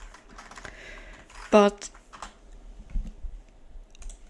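Fast typing on a computer keyboard in a quiet room, a short dense burst of key clicks that stands out briefly against low background noise, with faint speech around it.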